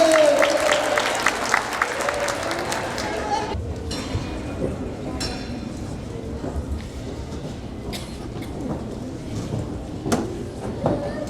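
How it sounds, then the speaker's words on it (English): Applause from the audience at a school Christmas concert rings out fairly loud at first, then fades into scattered claps and room noise as a voice talks over it. "Give them all one last round of applause."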